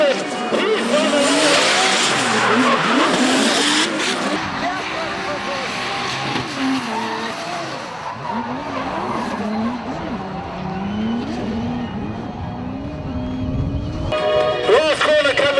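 Drift cars in a drifting competition skid with long, wavering tire squeals and engine revs, loud and close throughout, while a commentator talks over the action.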